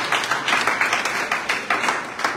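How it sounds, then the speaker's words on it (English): Crowd applause at an outdoor community gathering in Belefina, Bong County, Liberia, with irregular hand claps rising and falling over a couple of seconds, fairly loud and close, with no talking over it. "Please clap for James."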